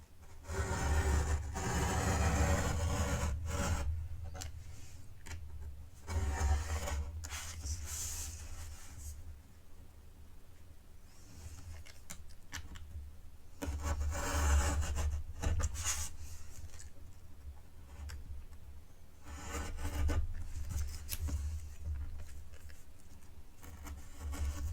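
A utility knife drags along a fold line in paper, a rough, scratchy scraping that comes in several drawn-out strokes with short pauses between, close and fairly quiet.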